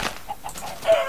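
A video game chicken giving a few short, clipped clucks in quick succession, close and moderately loud over a quiet game background.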